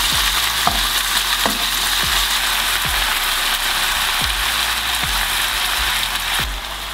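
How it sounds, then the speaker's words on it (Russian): Beef sizzles and fries over high heat in a pan, a loud steady hiss broken by regular scraping strokes of a stirring utensil roughly once a second, with no talk. "Жарим на большом огне минут"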